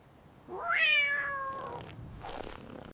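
A black cat gives a single clear, drawn-out meow close by, rising then falling, followed by a softer short trailing sound.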